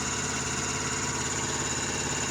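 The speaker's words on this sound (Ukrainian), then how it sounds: "Зараз їдемо розкидати добрива тесорчиком" A tractor engine runs steadily while heading out to spread NPK fertilizer on a wheat field, a close, loud, even mechanical drone with a rapid low throb and no pauses.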